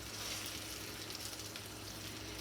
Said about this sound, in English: mix them up so they separate with the beautiful sauce, like so.